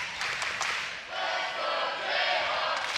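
Crowd at an NCAA women's volleyball match between Kansas and UCF chanting in unison, a broad, echoing wash of many voices filling the arena, steady and sustained after a brief dip.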